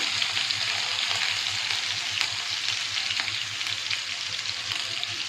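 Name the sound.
tempering cumin, asafoetida, garlic and chillies in hot oil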